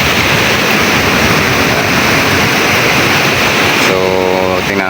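Strong sea waves churned up by Typhoon Crising roar as dense, loud surf and wind noise that holds steady, with someone talking over it near the end.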